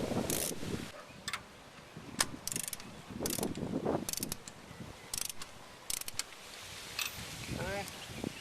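Ratchet tightening the side motor mount bolts on a 2001 Honda Civic LX sedan, with repeated bursts of clicking strokes close by, separated by short pauses, over low garage noise.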